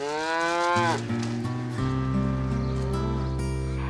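Loud, drawn-out cattle moos, one long bellow sliding down in pitch followed by deeper sustained lowing, close and clear with no talk.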